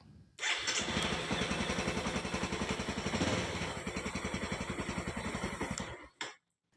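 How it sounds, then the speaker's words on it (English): A motorcycle engine is started without a key, cranking and catching, then running with a steady, rapid putter for several seconds before cutting off abruptly, close by. "we can start the bike"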